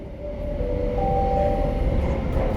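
A Singapore MRT carriage running steadily, a continuous rumbling rail roar with a faint tonal whine riding on top, heard from inside the car with no voices.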